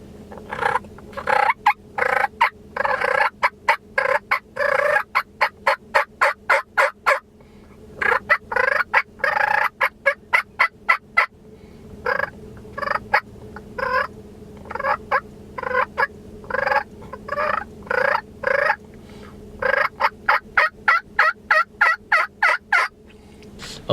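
A hunter's turkey call imitates a gobbling tom, producing long rapid rattling bursts of gobbles repeated again and again, loud and close with brief pauses between runs and no speech.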